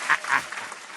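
A podcast host applauding himself, a brief patter of a few hand claps, close and slightly muffled.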